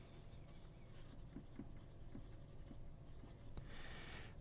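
Wingsung Junlai 930 fountain pen writing on paper, a faint, close scratching of nib strokes with soft ticks as letters form, steady and quiet with no talking.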